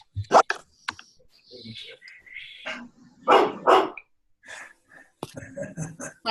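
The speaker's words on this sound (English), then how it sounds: "Sorry about the barking, guys." A dog barks indoors, in a room of a house, with sharp loud barks in short bursts and some higher whines, mixed with a voice speaking and keyboard-like clicks in between.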